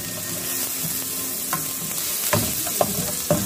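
Onions sizzling and frying in hot oil in a pan for a chayote, sardine and misua dish, a steady close crackle with a few louder stirring scrapes and no talking.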